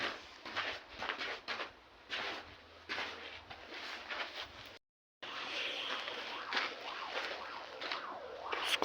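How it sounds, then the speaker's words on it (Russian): An ambulance siren is heard from inside an abandoned building, faint and distant, its rising and falling wail coming through between patchy noise bursts and a brief dropout. "Скорая."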